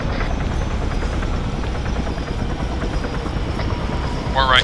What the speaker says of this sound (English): Chopper's touchdown, come on.